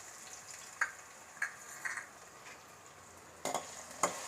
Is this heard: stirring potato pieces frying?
yes